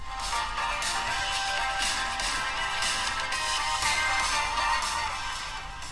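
Audio from a Redmi Note 11 phone speaker, a continuous stretch of music at steady volume heard on its own without any speech.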